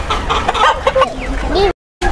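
Native chickens cluck and call amid background chatter and outdoor provincial noise, with brief sharp calls standing out over the mix.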